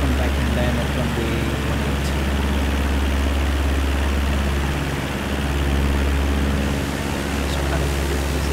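Aircraft engine in Microsoft Flight Simulator 2020, a steady loud droning hum and rumble running without a break near a military airport between Penang and Butterworth.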